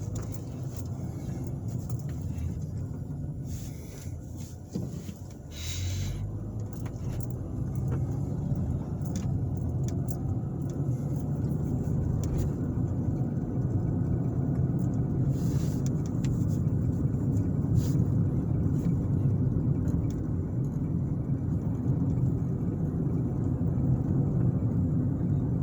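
Steady road and engine rumble from inside a car driving slowly through a small town in Patricksburg, Indiana, a continuous low drone lasting throughout with no talking.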